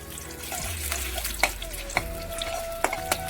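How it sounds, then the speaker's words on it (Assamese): Onions frying in hot oil for a home-cooked Assamese lunch, a steady close sizzle broken by several sharp clinks and scrapes of a utensil stirring in the pan. "তেলখিনি গৰম হৈ গ'ল এতিয়া পিঁয়াজ কেইটামান দি দিলোঁ"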